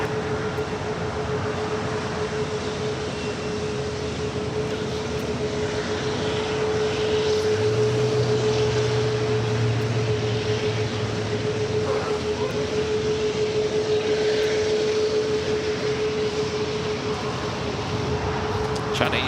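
A United airliner takes off from LAX runway 25 right, a steady broad engine roar holding loud and even throughout, with a constant tonal hum running underneath.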